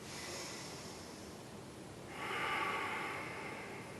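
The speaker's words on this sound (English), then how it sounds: "Take 3 more deep breaths here." Slow, deep breathing during a gentle yoga stretch for tight legs and hips, a long soft exhale and then a stronger, airy breath close to the mic, quiet, with no talking.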